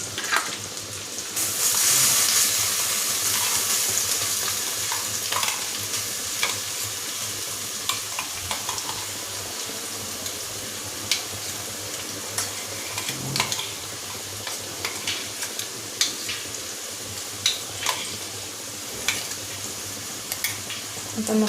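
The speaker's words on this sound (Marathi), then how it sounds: "आता मसाला छान परतून घेऊयात ह्याच्यात" Chicken being sautéed with ground masala for spicy Kolhapuri chicken sukka, a continuous close sizzle with frequent spatula scrapes and taps against the pan, steady throughout.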